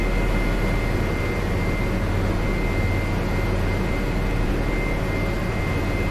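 Steady, loud rotor and engine drone of a helicopter in a flight simulator, a constant whirring hum with a high whine, no talking.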